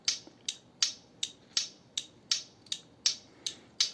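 An e-bike tiktak relay with running flasher clicks steadily, about three crisp ticks per second, close and fairly quiet, with no voices.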